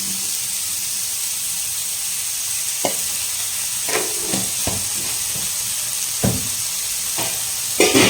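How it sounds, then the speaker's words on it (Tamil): Ginger garlic paste sautés in a pan during mutton chukka cooking: a constant bright sizzle and hiss with several sharp spatula scrapes and taps spaced through it, close and alone without voices. "இஞ்சி பூண்டு சேர்த்து சாட்டேஜ் பண்ணிக்கலாம்."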